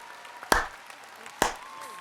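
Two separate sharp claps or slap-like hits, close and loud, spaced about a second apart with quiet between, a tiny stand-in for a round of applause.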